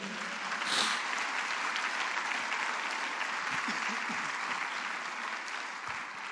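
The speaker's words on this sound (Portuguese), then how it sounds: "dê uma salva de palmas ao Senhor" A church congregation claps in a continuous, even burst of applause lasting several seconds, moderately distant and fairly quiet, with faint murmurs underneath.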